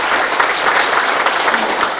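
Warm applause for the mayor at a community meeting, a thick, continuous wash of many hands clapping, loud and even throughout the whole stretch.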